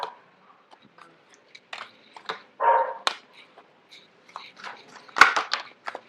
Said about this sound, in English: forgive the dog barking in the background